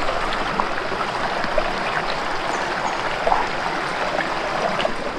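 A forest river at night flows as a steady, close rushing and trickling wash that continues unbroken throughout.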